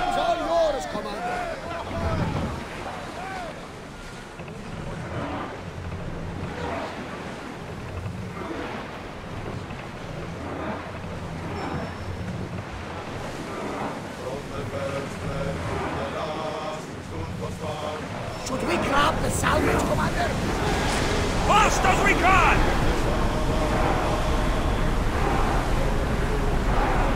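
Sailing ship cutting across open sea in Assassin's Creed Odyssey, a steady wash of waves and wind, with a louder surge of water in the last stretch; voices murmur faintly beneath the sea noise.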